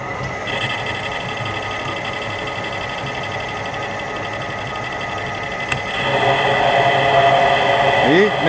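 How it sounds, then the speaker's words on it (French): A metal lathe fitted with a carbide insert cuts 42CrMo4 steel on a light pass, giving a steady mechanical whir that rises in pitch and grows louder near the end, with faint machine tones underneath. "Et même avec une toute petite passe, cette plaquette coupe super bien."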